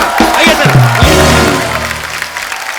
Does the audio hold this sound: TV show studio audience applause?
yes